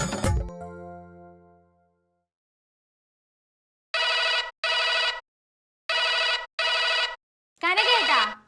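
A telephone bell rings in two paired double bursts, loud and close, after a decaying chime fades out at the start; a voice begins speaking just as the ringing ends.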